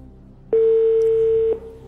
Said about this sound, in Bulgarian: Нека звънем на Влади Митев сега.